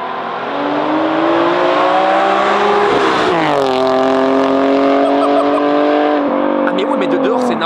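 A Nissan 370Z Nismo with a full tube exhaust roars past outside, loud and close, revving up, dropping pitch with a brief tire chirp, then accelerating away again; voices are faintly present.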